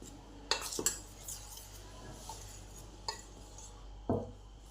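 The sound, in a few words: mixing dry batter ingredients with a spoon in a bowl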